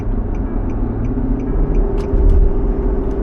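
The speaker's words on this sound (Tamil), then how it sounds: "my car cruising at 90 now" A car cruises at speed on an expressway in Qatar, giving a steady low road and engine rumble with a few faint ticking sounds over the top, and no talking.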